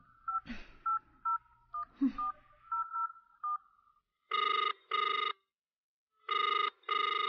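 A telephone number is dialed with a quick series of beeping DTMF tones, followed after a pause by two pairs of loud, buzzing ring tones from the line, all clear and close with no voices.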